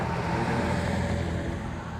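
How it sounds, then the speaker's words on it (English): Car engine running just after starting up, with a somewhat rattling condition, heard as a loud, steady, close rumble that holds level throughout. "I heard the car start up"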